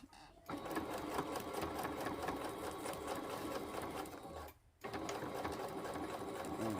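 A sewing machine stitching an invisible zipper runs in a fast, steady mechanical whir close by, stopping briefly at the start and once midway before resuming.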